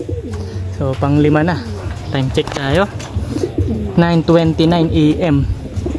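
Racing pigeons, including a Viberman cross and a Grizzle Taiwan, coo at the loft during a training session in Rosales, Pangasinan, with someone talking over most of the cooing.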